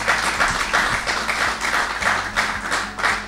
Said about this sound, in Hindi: आपके लिए भी भरपूर तालियां।